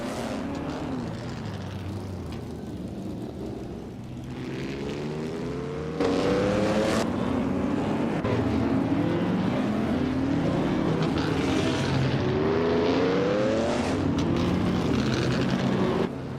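Engines of race cars in a racing video game, featuring a 1957 Curtiss Craft 500B, drone and whine continuously with rising and falling pitch sweeps as cars pass, growing louder partway through.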